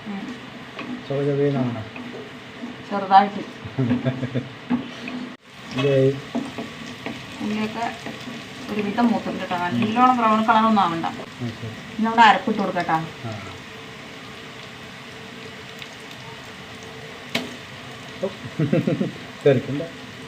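Onion and masala roast with green chillies in a pan, a continuous sizzle with scraping stirs, while someone talks over it almost throughout.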